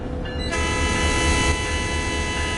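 An MP36PH-3C diesel locomotive with an EMD 645F3B prime mover and a separate head-end power generator, in a train simulator game, sounds a loud, sustained horn blast over the heavy, steady rumble of the engine.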